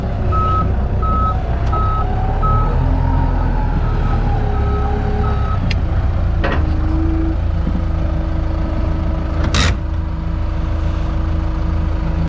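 A loaded truck backs up at a tomato field during loading, its reversing alarm beeping steadily over a loud, constant diesel engine rumble, with a brief hiss and clunks partway through.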